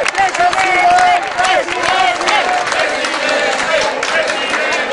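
Supporters of Spanish opposition leader Mariano Rajoy cheer, clap and shout in a dense, lively crowd roar, with scattered whistles and voices rising and falling close by.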